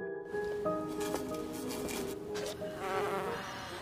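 A bee flies into a classroom, its close, steady buzz wavering in pitch as it moves around, heard alone for several seconds.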